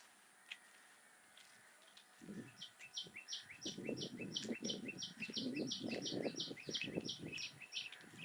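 Small birds chirp in a quick repeated series of high tweets while foraging for food among trees in a fishing village in Chilaw, Sri Lanka, rising over a quieter background of rustling and low noise.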